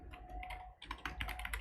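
Quick, uneven bursts of keystrokes on a computer keyboard, close and fairly quiet, with a short pause partway through before the clatter picks up again.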